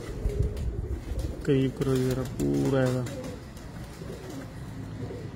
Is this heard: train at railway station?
no